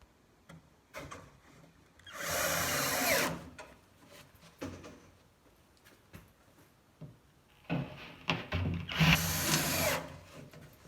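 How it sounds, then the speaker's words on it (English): A power drill drives screws to fix the front piece of a homemade plywood chicken feeder, two sustained whirring runs with short clicks and handling noises between them, close by. "Then we're going to screw this in place."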